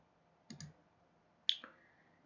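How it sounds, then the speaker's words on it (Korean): Two quiet computer mouse clicks while 3D modeling a shaft in CAD software, a close double click followed a second later by a single sharper click, in near silence. "이쪽으로 더 가게끔 마우스를 클릭을 해주시고"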